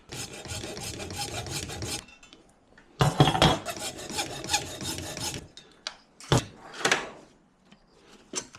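Plastic tabs on a light are trimmed flush with a hand tool during a 72V Razor electric scooter build, making raspy back-and-forth scraping strokes in bursts, close and moderately loud, with short pauses between passes.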